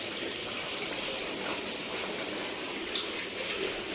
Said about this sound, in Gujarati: મોટર ચાલુ કરે પાણી આવે